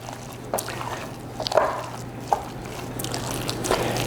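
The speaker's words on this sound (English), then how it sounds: "grab my spatula and just stir this all together" A spatula stirs a party dip mixture with spinach in a bowl, making soft, wet squishing and scraping with a few faint clicks against a steady low background hum, close and quiet.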